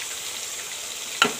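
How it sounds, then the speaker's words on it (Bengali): Fish sizzles steadily in a hot pan in a home kitchen, a constant close frying hiss with one sharper crackling burst near the end. "আর ওদিকে আমার হাজবেন্ড হচ্ছে বেগুন ভাজা না ওই মাছ ভাজাটা করছে"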